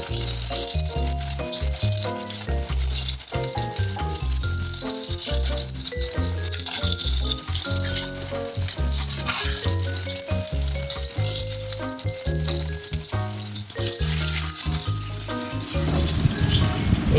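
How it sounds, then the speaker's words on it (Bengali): Chicken pieces fry in hot oil for a chili chicken dish, a loud, dense, continuous sizzle with rattling bursts, while music plays prominently over the cooking. "তেল গরম হয়ে এসেছে, এবার একে একে আমি চিকেনগুলো ভেজে নেব।"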